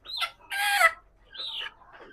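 A chicken clucks close by in a few short, sharp calls separated by brief pauses, loud and clear with nothing else around.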